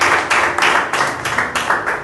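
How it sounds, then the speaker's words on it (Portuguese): A church congregation claps in rhythmic unison during a worship service, sharp regular bursts of many hands roughly every quarter second, loud and close. "Para a tua salva de palmas para Jesus."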